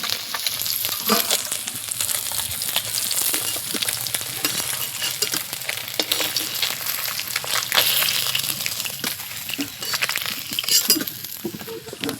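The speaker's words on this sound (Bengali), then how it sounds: "এই মাছগুলো আমার ভাজা হয়ে গেছে, এটা তুলে নেব।" Rohu fish pieces frying in hot oil in a pan, with a steady crackling sizzle and occasional utensil stirring and clinks throughout.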